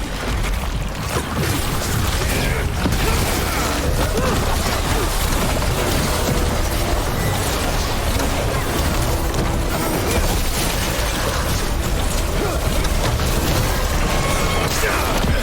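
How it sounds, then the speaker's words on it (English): Explosions and combat crashes in the fantasy role-playing game Dragon Age ring out loud and dense, with booming hits and mechanical clatter layered over a constant busy game mix. "That explosion thing is..."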